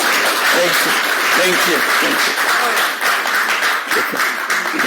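Audience applause for street-fighting performers, a loud continuous patter of many hands with voices mixed underneath.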